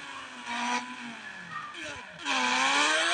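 A KTM motorbike in a driving 3D video game produces a revving engine drone with rising pitch and tyre screeches, close and steady, with a voice talking over it.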